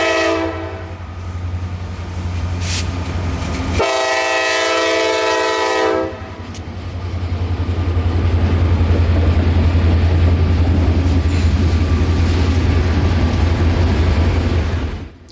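Locomotive 0823 on the Palmetto Subdivision revving its diesel engine as it heads north, a loud sustained low rumble with a blaring horn blast early on, close and building in intensity.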